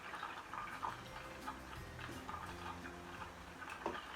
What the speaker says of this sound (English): Now you can see that the crackling noise will slowly start to reduce and the bubbles will start to come up.